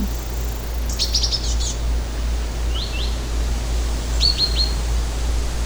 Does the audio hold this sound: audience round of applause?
no